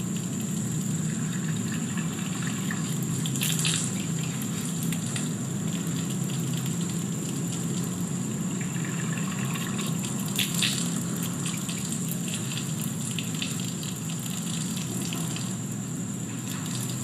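Water runs steadily from a tap during wudu ablution, a constant close splashing stream with faint intermittent gurgles and no talk.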